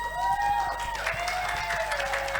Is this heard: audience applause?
yes